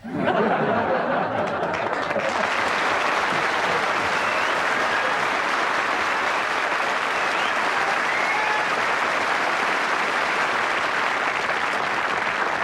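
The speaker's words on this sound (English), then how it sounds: "when you give me the standing ovation, make it look spontaneous" Audience applause builds into a standing ovation at a 1982 Christmas television variety show, a large crowd clapping loudly and steadily throughout with faint cheers and murmurs mixed in.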